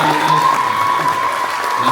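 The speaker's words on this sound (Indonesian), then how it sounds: "Tapi yang tepuk tangan luar biasa buat paduan suara remaja." An audience claps for a youth choir, dense applause rising and holding steady through the short moment, with crowd murmur under it.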